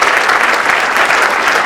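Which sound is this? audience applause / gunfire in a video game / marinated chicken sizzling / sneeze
audience applause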